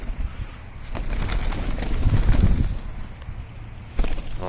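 Street pigeons in Washington coo and murmur very close by, a soft continuous rumble with a brief flutter of wings, set against steady outdoor background noise.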